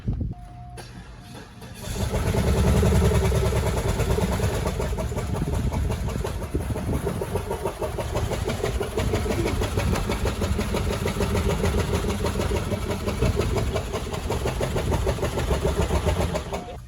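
A 2002 Cadillac Deville's engine turns over and then runs steadily as the rescued car is driven, a loud, close, continuous rumble with a rough hum and no voices.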